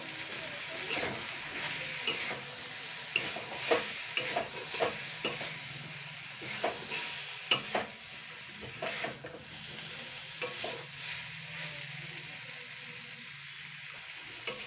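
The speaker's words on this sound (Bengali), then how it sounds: "বেসন গুঁড়োটা একটু দুই তিন মিনিট ভেজে নেবো" Gram flour frying with moringa leaves in a pan, a soft steady sizzle broken by irregular scraping strokes of a spatula, close but moderate in volume, with no talking.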